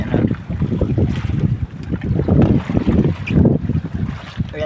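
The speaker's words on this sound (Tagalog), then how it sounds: "Napakalakas ng alon talaga guys" Strong sea waves slap and surge around a small fishing boat at night, a loud, churning wash of water mixed with gusty wind noise, rising and falling in uneven swells.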